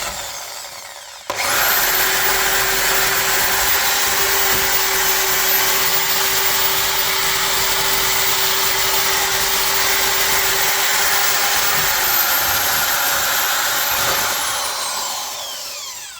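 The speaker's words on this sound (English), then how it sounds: "Wire brush on the end of the drill now for a bit of cleaning" A wire brush spun by a drill scrubs a 17-year-old rear suspension wishbone on a Jaguar XK XKR (X150), a steady loud whirring grind held for about twelve seconds after a brief spin-up, then winding down.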